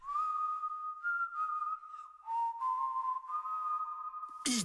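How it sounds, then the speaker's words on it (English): A clear whistled melody in a K-pop song, long sustained tones sliding between pitches, close and steady, ending with a sudden burst of music. "These whistling songs in K-pop."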